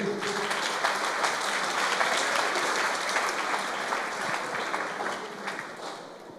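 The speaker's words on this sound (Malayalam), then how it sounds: "ഒരു കൈയടി മാമിന് പ്ലീസ്." An audience applauds at a question-and-answer gathering, a dense, even burst of many hands clapping that fills the space for several seconds before easing slightly, with no voices over it.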